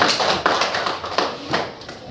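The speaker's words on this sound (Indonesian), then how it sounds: "Tepuk tangan buat Emtrina" Primary school children in a classroom clap for a classmate, a soft, uneven patter of scattered hand claps with a few stronger beats, fairly quiet and close.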